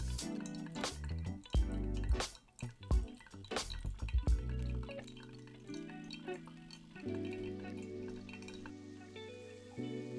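Brewed coffee drips steadily through a filter, a run of close, irregular drops and splashes over the first few seconds that thin out, leaving a low steady hum with only occasional faint drips.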